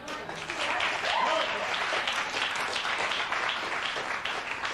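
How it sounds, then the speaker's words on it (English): A studio audience on a TV court show claps in a steady, continuous wash of applause, with voices and crowd noise mixed in underneath. "Okay, enough of the clapping."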